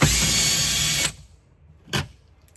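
A power driver with a T40 bit whirs steadily for about a second while removing screws from trim on a Polaris vehicle, then stops, followed by one short burst.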